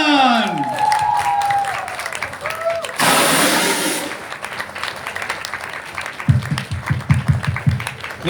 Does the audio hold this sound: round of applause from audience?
yes